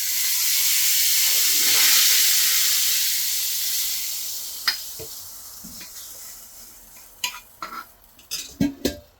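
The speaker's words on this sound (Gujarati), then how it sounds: "તો હવે આપણે આમાં વઘાર કરી દઈએ." Tempering for dal makhani sizzles in hot oil, a loud broad hiss that swells early then slowly fades, followed by a few sharp clinks of a spoon against the pot near the end.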